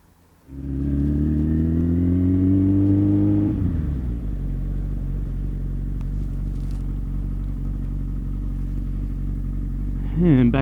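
A 1997 Suzuki Bandit 1200 motorcycle engine fires up and holds a loud, steady drone with a brief rise in revs before settling back to an even running note, recorded close to the bike.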